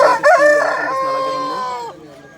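A rooster at a country chicken market in Vijayawada gives one loud, close crow that holds steady and then trails off.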